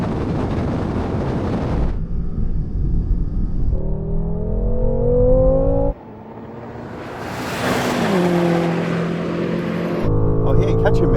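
BMW M5 cars, G90, F90 and F10 models, launching in a drag race. Loud engines rev and climb through rising gear pitches, with abrupt shifts and a brief drop before another car roars up again, buffeted by wind.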